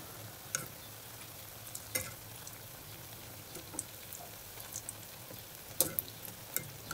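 Eggplant slices coated in homemade besan batter deep-fry in oil as beguni, a quiet, even bubbling hiss dotted with light ticks and scrapes from lifting the fritters out.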